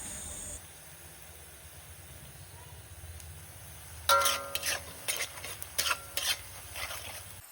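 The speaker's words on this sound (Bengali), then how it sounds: "দেখো পেঁয়াজগুলো প্রায় আমার ভাজা ভাজা হয়ে এসেছে, আর একটু ভালো করে ভেজে নেব লাল লাল করে।" Onions frying in a pan for a Bengali mutton kosha, with a low steady sizzle at first, then bursts of louder scraping and stirring strokes in the second half, close up and without talk.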